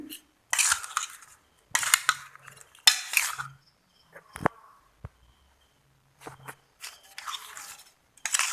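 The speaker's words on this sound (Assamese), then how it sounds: "এতিয়া এইখিনি লৰাই দিম।" Indian olive (Jolphai) pickle being stirred with oil in a metal pot, a spoon scraping and clinking against the sides in short bursts separated by pauses, close and fairly loud.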